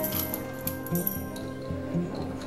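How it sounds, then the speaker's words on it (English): Wooden rattle toy carved from one solid piece of wood with turned rings, shaken in a quick rhythmic series of light clicking, clattering bursts, close and fairly soft, with no talk. "Rattle."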